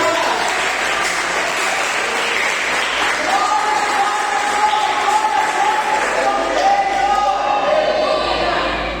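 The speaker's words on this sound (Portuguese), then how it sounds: "Você pode dar uma salva de palmas por isso." A church congregation applauds together, sustained crowd clapping filling the hall with cheers and voices rising through it, steady and loud throughout.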